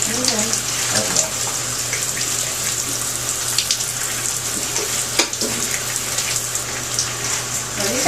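Shower water running in a bathroom, a continuous hissing spray with a low steady hum beneath, while people talk quietly nearby.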